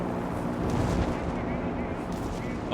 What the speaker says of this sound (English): Just intense machine gun fire here from so many sources